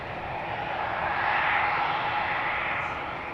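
KLM Embraer 175 jet taking off from the Polderbaan runway at Amsterdam Schiphol, a steady broadband engine roar heard from a distance that swells a little at the middle and then holds.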